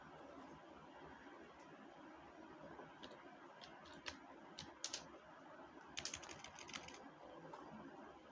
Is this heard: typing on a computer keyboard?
yes